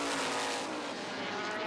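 F5000 race cars on the straight at Taupo circuit, a loud, high, sustained engine howl from a car passing close, alone with no talk.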